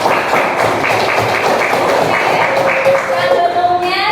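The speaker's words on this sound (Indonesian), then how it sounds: "beri aplaus dulu buat kalian" Classroom applause for students at the close of an explanatory-text lesson, steady dense clapping from a group of pupils sustained throughout, close and fairly loud.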